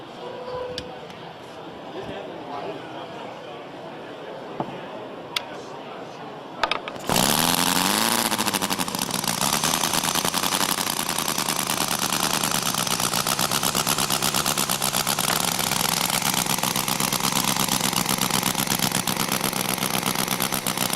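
A small model engine with a 1-inch bore and 1-inch stroke sputters to life after a few quiet seconds, then runs loud and steady with a high buzzing whine for the rest of the clip.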